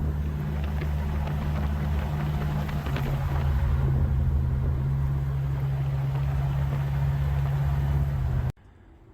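A 1955 Chevy cruises along the road, its engine a steady low rumble with road and wind noise, loud and continuous until it cuts off abruptly near the end.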